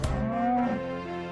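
A farm steer, one of a mixed group of young three-year-old cattle, gives a single drawn-out moo with a rising then falling tone, close and fairly loud, with no talking.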